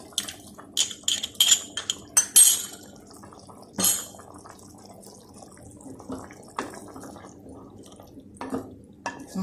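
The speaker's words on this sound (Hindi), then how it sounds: "एक कटोरी में दही की डालने लगी।" Yogurt is spooned into a bowl with a series of close, sharp clinks and wet dollops, the spoon scraping and tapping against the dish in irregular bursts.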